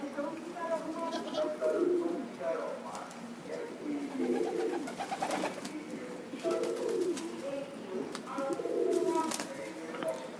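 Pigeons coo in a low, repeated rhythm while feeding close by, with a person talking over them throughout.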